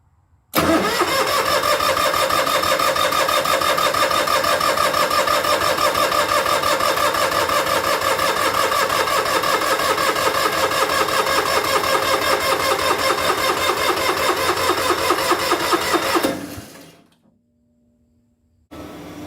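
An Onan DJB diesel generator engine cranks continuously on a start attempt, a steady loud rhythmic churning that runs for about sixteen seconds without catching, then cuts off into near silence.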